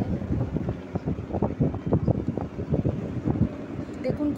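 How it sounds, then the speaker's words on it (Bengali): Motorboats passing on a river at high tide, heard from a boat crossing to the far bank: a steady, wind-buffeted engine rumble runs throughout, with bursts of talk layered over it. "দেখুন কত ভটভটি যাচ্ছে।"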